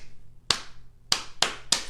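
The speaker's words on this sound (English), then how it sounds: "I'm gonna clap a pattern" Hands clap a short rhythm pattern: one sharp, close clap, a pause, then three quick claps in an uneven beat, with a low hum behind.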